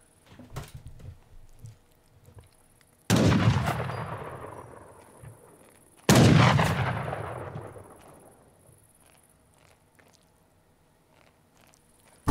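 Two loud, booming Age of Empires III cannon blasts about three seconds apart, each with a sharp attack and a long rumbling decay, over a quiet background.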